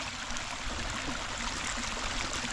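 Floodwater runs like a stream through a flooded custard-apple orchard in Vietnam, a steady, loud, broadband rushing and gurgling that holds constant throughout with no voices over it.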